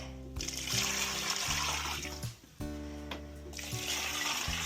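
Water pours and splashes steadily into a container of horse feed pellets to soak them, with one brief break before the flow resumes, close and fairly quiet.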